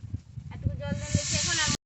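Sharp, loud sizzle as water is splashed into a hot pan of oil with turmeric, coriander and mixed spice powder, a steaming hiss that cuts off abruptly, following a few soft clatters.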